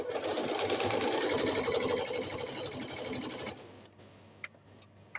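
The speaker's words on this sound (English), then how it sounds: "I'm not sure if I'm really supposed to go backwards with my walking foot" A sewing machine fitted with a walking foot stitches a fabric bowl cozy, its rapid, steady needle chatter running loud for a few seconds before stopping, leaving a few faint clicks and handling noises.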